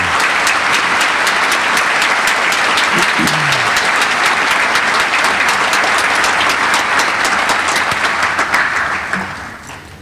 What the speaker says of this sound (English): Let us give them a final round of big applause as they now leave the hall.